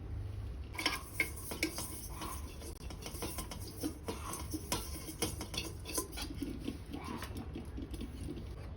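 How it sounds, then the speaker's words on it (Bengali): Ghee is rubbed around the inside of a metal biryani pot, producing faint, continuous scraping, clinking and rubbing sounds close by. "তো আমি এই পাত্রের মধ্যে একটু ঘি মাখিয়ে নেব, যাতে বিরিয়ানির ভাতটা নিচে না লেগে যায়।"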